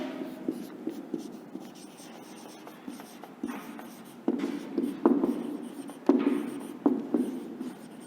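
Chalk or marker writes keywords on a classroom board during a social science lesson, a run of clear, close scratching strokes in irregular bursts that grow louder toward the end, with no talking.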